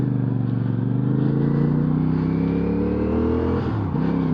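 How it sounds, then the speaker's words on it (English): A 2025 CFMoto CLC 450 motorcycle engine runs close and loud, its deep, throbbing exhaust note rising steadily in pitch as it pulls through the rev range, then dipping briefly near the end as if shifting gear, with no talking. "I like the way this 450 sounds. CFMoto's got a fantastic engine here as far as the way it sounds."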